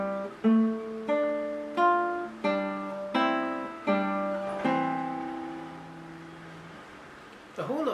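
Classical nylon-string guitar plays the second line of Kuffner's Andantino, a slow phrase of plucked notes and chords about every seventh of a second apart, ending on a long ringing note, close and solo.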